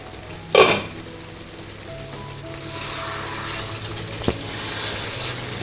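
Sliced plantain (valakkai) cooking in a pan gives a soft, continuous sizzle and fry, with a sharp clatter of stirring near the start and another scrape later, the frying swelling louder toward the end.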